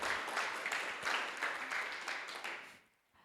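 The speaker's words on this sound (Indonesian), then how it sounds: "Tepuk tangan buat Tuhan Yesus kita." A congregation claps for Jesus during a church service, steady moderate applause that holds for nearly three seconds and then dies away into quiet.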